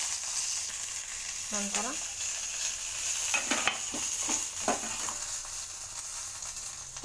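Dried red chillies and curry leaves frying in hot oil with mustard seeds, a tempering for Mangalore-style avalakki (poha), give a steady, close, hissing sizzle with brief bursts of a voice speaking over it.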